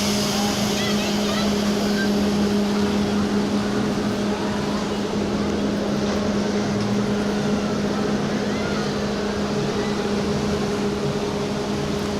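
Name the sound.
river rapids raft ride water splashing at amusement park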